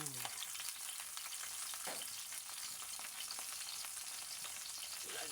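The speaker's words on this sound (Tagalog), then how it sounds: "Tapos ilagay ko na yung talong na hiniwa ko kanina guys." Sliced eggplant fries in a pan for ginisang talong, a steady, fairly quiet hiss of sizzling oil with occasional stirring scrapes and no talk.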